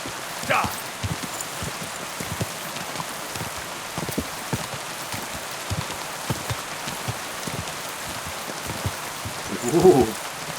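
Rain in the medieval video game Kingdom Come: Deliverance II, a steady patter of drops on surfaces with scattered sharper taps and a faint voice-like call near the end.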